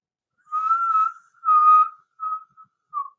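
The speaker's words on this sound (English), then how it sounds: "It's telling me with that whistle that it's getting steamed. That the kettle is getting steamed." A kettle whistles in a steady high tone, breaking into a series of bursts: two longer blasts followed by shorter fading toots, clear and alone against silence.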